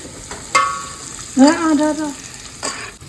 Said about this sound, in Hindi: अभी तो ये चिकन शाकुती बन रहा है